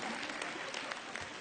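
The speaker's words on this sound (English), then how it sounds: "Round of applause" Brief burst of audience applause at a summit session, a dense crackle of many hands clapping steadily, moderately loud and close, with no pause.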